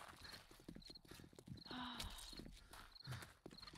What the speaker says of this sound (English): Isn't the horse supposed to come at like night 7?